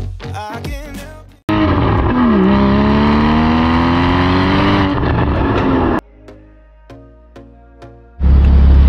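Porsche Cayman GT4 engine revving hard and loud up close, a sustained rising roar that cuts off abruptly, followed by a quieter idle and another sharp burst.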